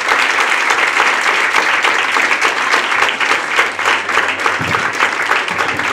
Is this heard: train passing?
no